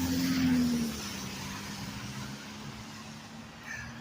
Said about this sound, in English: There's actually cars around.